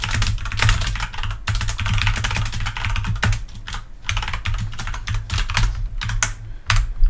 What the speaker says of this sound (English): I'm typing at a really weird angle here